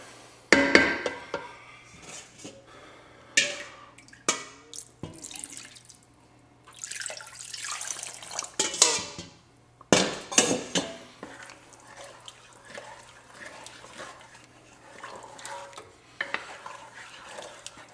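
Stock being poured into a Creole shrimp stew and stirred in a pot, with intermittent liquid splashes, scraping stirs and faint sizzling in short bursts, close and fairly quiet, no talking.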